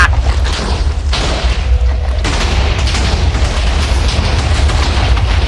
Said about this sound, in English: Blow up. Be destroyed.